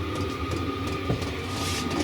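Heater in an off-grid observatory winding up, a steady droning hum with a faint tone over broadband noise, continuous and fairly loud with no talking.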